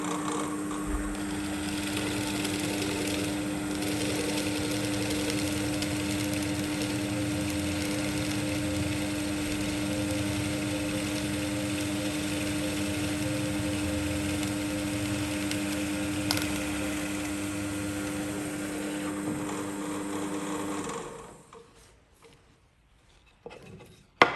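A Forstner bit bores through a wooden workpiece on a guarded drill, a steady high motor whine with grinding cutting noise held for about twenty seconds, then the machine winds down to near silence.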